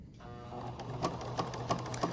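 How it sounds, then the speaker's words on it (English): Sewing machine stitching a one-inch seam straight over cross pins, giving a steady mechanical whir with regular clicking pulses about every third of a second, close and moderately loud with no talk. "You'll notice I sewed over the pins that are across."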